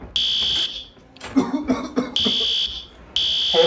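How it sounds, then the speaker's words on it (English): A school fire alarm blares in three loud, piercing bursts, separated by gaps where a person coughs and clears their throat nearby. "Oh, wait, I hear the fire alarm."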